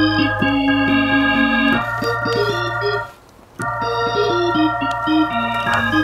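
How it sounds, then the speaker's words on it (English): Banjo-Kazooie video game music: a bright, bouncy melodic tune with a steady bass line, loud and continuous apart from a short drop near the middle, no voices over it. "We are right now listening to Banjo Kazooie."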